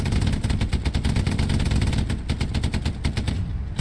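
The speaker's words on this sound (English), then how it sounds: "Is it me or is that MG sound different?" Sustained automatic machine gun fire in the video game Hell Let Loose, a dense, loud stream of rapid rhythmic bursts running the whole time with no pauses and no talking.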